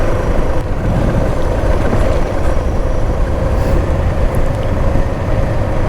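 A Suzuki DR650SE dual-sport motorcycle ridden along forest trails, its engine droning loud and steady with constant rumble and wind noise, no pauses.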